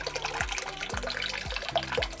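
Water pours from a tank at a trail water source, a steady close splashing and gurgling stream with a few rhythmic glugs, heard alone.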